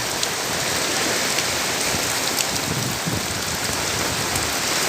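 Heavy typhoon rain from Typhoon Aghon pouring down in Camarines Sur, Bicol, a dense, steady, loud downpour hissing on surfaces without letup.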